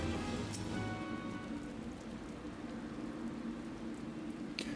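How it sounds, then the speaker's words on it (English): Rain falling in the fantasy game Final Fantasy XIV, a steady dense patter on surfaces that continues evenly throughout, with a faint tonal hum beneath and no voices. "Oh, it's raining, that's why?"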